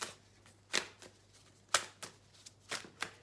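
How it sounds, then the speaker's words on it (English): Dropped tarot cards are gathered up and shuffled together, giving soft, close, papery swishes and slaps in a few separate bursts against a quiet background. "Gather up the cards."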